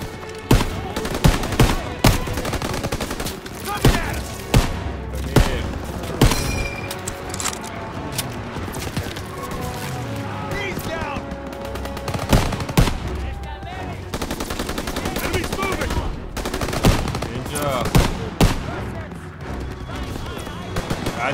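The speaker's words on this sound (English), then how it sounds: "MGs in the barn!" Machine gun fire in Call of Duty WW2, sustained rattling bursts from MGs in a barn mixed with scattered rifle shots and distant blasts, loud and continuous, with shouted soldier voices over the battle.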